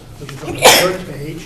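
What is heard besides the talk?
sneeze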